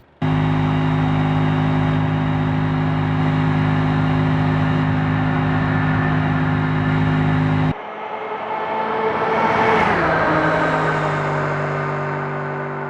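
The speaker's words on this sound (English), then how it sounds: "The drag car is at half power, it's not that fast." Drag car engine in the video game BeamNG, running at half power: a steady loud harmonic drone that cuts out abruptly, then rises again in a revving, accelerating whine.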